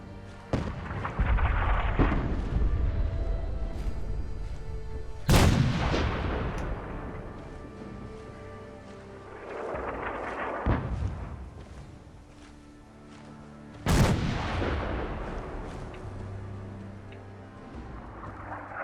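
Cannons fire in Fallout 4, a settlement-building game modded with Sim Settlements 2: three loud booming blasts about four to nine seconds apart, each trailing into a long rumbling decay over steady ambient noise.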